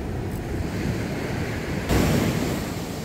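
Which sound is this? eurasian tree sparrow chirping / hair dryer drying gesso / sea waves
sea waves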